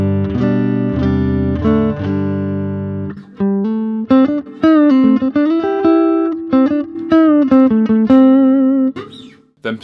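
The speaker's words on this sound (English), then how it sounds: "So starting off on the neck pickup." A budget Strat-copy electric guitar played on its neck pickup: sustained strummed chords followed by a run of quick picked single notes and bends, loud and close, with no talking.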